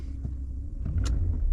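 Ram 1500 pickup with a 5.7L V8 giving a low, steady engine rumble that swells slightly as the throttle is tapped, close and continuous without speech.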